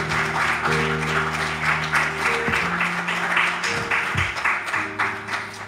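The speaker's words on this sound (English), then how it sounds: "Give God a big round of applause." Congregational applause during a church service, a sustained wash of clapping with low sustained organ or keyboard tones running beneath it.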